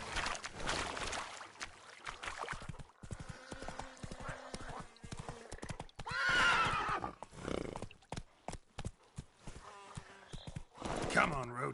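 Horse hooves clip-clop at a gallop with repeated neighs and whinnies in The Witcher 3, the player's horse ridden through the game world, with game sounds and voices around it.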